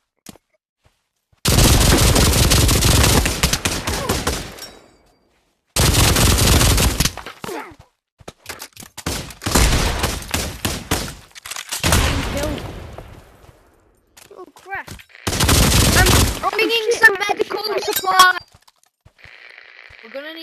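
Loud bursts of automatic gunfire in a WWII video game come in several long rapid volleys separated by short pauses, with a player talking between the bursts.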